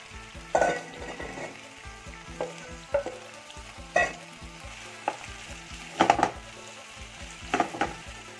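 Tomatoes and mushrooms fry in a pan for a stir-fry with egg, giving a steady close sizzle broken by regular scraping stirs and utensil knocks about once a second, with no talking.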